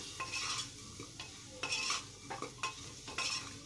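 Rice with soybeans and peas stir-fried in a pan, a soft steady sizzle broken by several scraping stirs of a spatula against the pan, fairly quiet and close.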